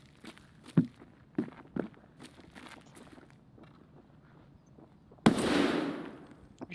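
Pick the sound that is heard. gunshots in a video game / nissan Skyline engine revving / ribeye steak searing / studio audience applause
gunshots in a video game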